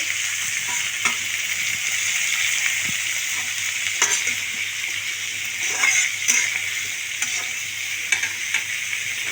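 Chilli chicken with tomato sizzles in a frying pan over a gas flame, a steady bright frying hiss with occasional spatula scrapes and light knocks as it is stirred.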